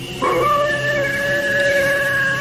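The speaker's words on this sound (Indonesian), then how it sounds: "suara lolongan serigala." A single wolf howls, rising into a long, steady, drawn-out wail that holds at a clear, fairly close level over a faint background hum.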